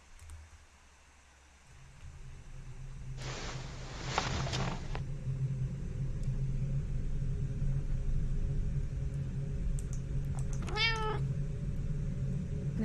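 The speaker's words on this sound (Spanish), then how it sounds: "Nuestro gato, ¿dónde está?" A single drawn-out cat meow rises and falls late in the stretch, fairly close, over a steady low rumble, with a short burst of broad rushing noise earlier on and no talking.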